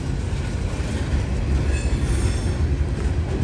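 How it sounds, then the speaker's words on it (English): A long freight train with ethanol tank cars and a covered hopper rolls past close by, with a continuous heavy rumble of wheels on rails and faint metallic squeals above it. "here comes the end of the train"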